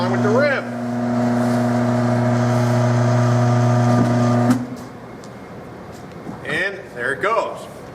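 A Corghi A9220TI tire changer turns a tire together with its rim, giving a loud, steady motor drone for about four and a half seconds before it cuts off, followed by scattered voices.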